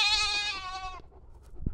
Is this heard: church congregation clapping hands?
no